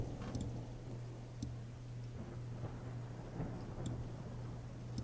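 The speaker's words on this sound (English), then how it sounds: "You guys hear trickling and rain begin to come down." A rain and thunder sound effect plays during a tabletop role-playing game: a steady wash of rainfall with a low, continuous rumble and a few faint ticking drops, quiet and unbroken throughout.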